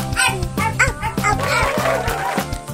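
A voice mimics a dog barking, a quick run of yappy woofs, close and clear.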